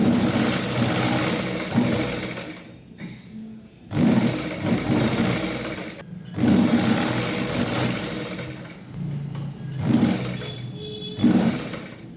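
A sewing machine stitches a nine-yard nauvari saree in loud, rapid bursts of whirring, each lasting a couple of seconds, with brief pauses between runs.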